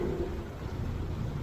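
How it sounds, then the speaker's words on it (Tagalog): Heavy rain pours steadily in a dense, even wash of noise, with low rumbling beneath, heard during a delivery driver's wait in traffic. "ang ulan, napakalakas ng ulan"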